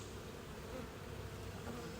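Gentle honeybees buzz around an open hive during a summer inspection while they build wax, a faint, steady, even hum with no voices.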